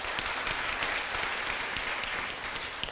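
A church congregation at an Easter Sunday service claps steadily, a dense patter of many hands that stays even and moderately distant.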